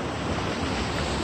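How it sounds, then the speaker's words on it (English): Ocean waves wash in and out along the rocky shore at Kapurpurawan in Ilocos, a steady broadband roar with wind buffeting the microphone and no voices. "the water is coming inside, and the water is coming outside also, and that is what you call the waves"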